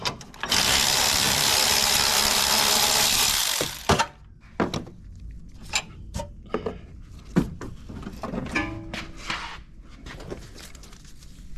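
The last strut nut coming off a Toyota Sienna: a loud, continuous power-tool whir for a few seconds, then scattered metallic clunks, taps and knocks as parts are handled nearby.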